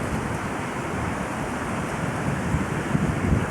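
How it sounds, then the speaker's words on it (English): Wind gusts at a candy factory clock tower, a continuous broad rushing roar with buffeting microphone noise and no voices. "And it's windy. It's going to sound windy."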